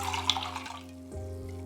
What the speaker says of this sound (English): the more you pour, you have to really trust that it's going to make it and not drip over the edge